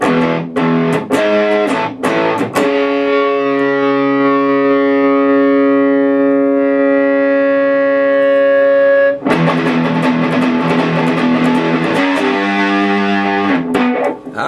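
A loud, distorted guitar through a VFE Fiery Red Horse fuzz pedal with the mids cranked, thick nasal midrange tone, plays choppy stabs, then holds a long sustained note before more chopped strumming returns.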